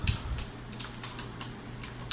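Fast typing on a computer keyboard, a quiet run of light clicking keystrokes alone over a faint low hum.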